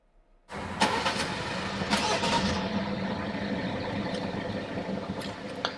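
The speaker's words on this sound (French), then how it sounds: "Et les gens, ils ont tout de suite remis en route les voitures." Car engines crank and restart at a red light after stop-start shutdown, with a Peugeot and a BMW nearby. A sudden start is followed by steady engine noise and brief cranking bursts as the engines settle into a running hum.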